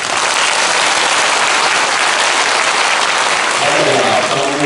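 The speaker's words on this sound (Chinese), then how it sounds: "我们是不是给我们铁路单位他们一个热烈掌声？" Loud, warm applause from a large crowd at a Taiwan Railway Labor Day and model worker award ceremony, dense clapping sustained throughout with a voice emerging toward the end.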